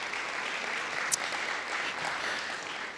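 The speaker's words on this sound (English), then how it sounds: "Let's give Jack a big round of applause" Audience applause at a school Reflections arts contest ceremony, an even stretch of clapping from a seated crowd, steady throughout with a single sharper clap standing out.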